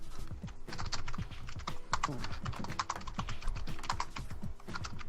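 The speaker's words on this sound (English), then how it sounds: "That's actually me typing" Rapid, steady typing on a computer keyboard, close and continuous, with dense clicking keystrokes and no voices.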